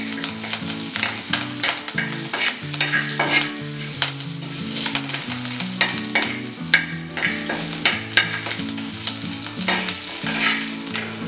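Fresh curry leaves sizzling in hot oil with asafoetida for a Tamil buttermilk curry, a steady close crackle and spatter that runs continuously with no voices, with soft music underneath.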